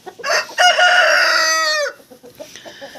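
A rooster crows once, loud and close, a long drawn-out call followed by softer clucking and scratching.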